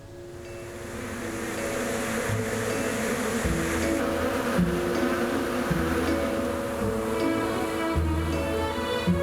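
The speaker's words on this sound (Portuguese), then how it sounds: "há abelhas ao redor das sojas o ano todo" Bees hum steadily around soybean plants, a continuous close buzzing swarm that holds for several seconds under a faint low background drone.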